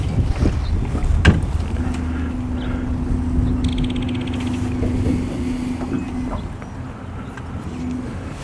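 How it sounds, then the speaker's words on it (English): Wind blows across open water beside a boat during a fishing cast, a steady rushing buffet on the microphone with faint creaks and knocks. "Now the wind's blowing."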